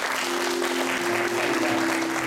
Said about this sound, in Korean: 성도 여러분께서는 박수로 환영해 주시기 바랍니다